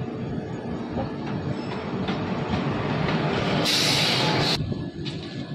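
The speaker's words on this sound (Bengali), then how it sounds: "10:46 এখন ট্রেন ছাড়লো" The 13005 Amritsar Mail pulls out of Janghai Junction station, a steady low rumble of rolling wagons with a brief sharp high squeal of wheels midway, heard up close without talk.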